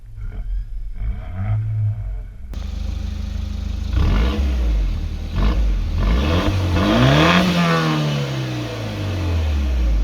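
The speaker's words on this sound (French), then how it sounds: "pour démarrer, on appuie à fond sur la pédale d'embrayage et on maintient start and stop" A Peugeot 308 GTI engine cranks and fires up after a quiet moment, then roars through several loud, rising revs up close with no talking.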